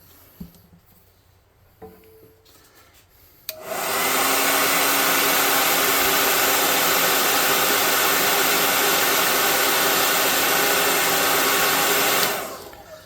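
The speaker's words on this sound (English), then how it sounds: "Then I'm going to dry it off with a little bit more hot air." A heat gun blows hot air to dry paint on a handmade goblin airship tower model, a loud steady roaring hiss that starts abruptly, runs unbroken for about nine seconds and then cuts off.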